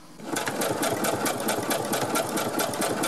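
A sewing machine stitches a zigzag seam on cotton newborn mittens, a steady, rapid mechanical clatter with even rhythmic pulses, close and continuous for the whole stretch.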